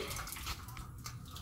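Water is drawn up from a deep well, with a continuous close splashing, gushing rush of water and no voices.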